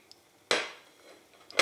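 Sliced smoked fish dropped into a soup pot lands in two sharp, close clattering splashes about a second apart, with near silence between them.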